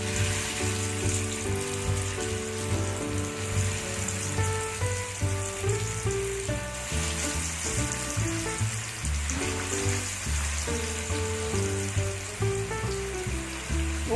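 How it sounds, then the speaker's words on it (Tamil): Fish laid piece by piece into hot sunflower oil in a pan: a continuous crackling sizzle running throughout, with busy tonal background noise layered over it and no talking. "எண்ணெய் சூடாயிருச்சு ஒரு ஒரு மீனை அதில் வச்சிருவோம் மெதுவாக வைங்க மேலே தெரிக்கும்"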